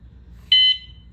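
An e-bike lock alarm sounds two quick high-pitched electronic beeps, close and loud, over a low background hum.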